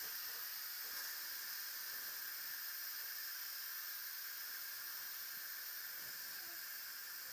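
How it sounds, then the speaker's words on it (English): Steam hissing steadily out of a rice cooker's release valve just after the rice finished cooking, a constant close, bright, airy rush with no breaks and no talking. "my rice is done, so I'm going to go ahead and release the steam here."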